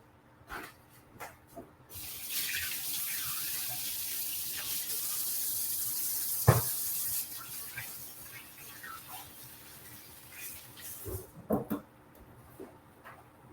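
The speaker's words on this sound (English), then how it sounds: "I'm going to rinse my hands again." Water runs from a kitchen sink faucet while hands are rinsed, a steady hiss lasting several seconds. Faint splashes and handling noises surround it, along with a sharp clunk midway and a few knocks near the end.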